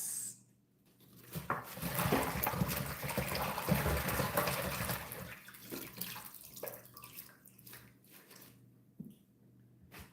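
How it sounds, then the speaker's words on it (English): Callaloo greens washed in salt water in a Jamaican kitchen, with several seconds of running and splashing water that then tapers into quieter handling and drips, without speech. "My callaloo washed off in some salt water."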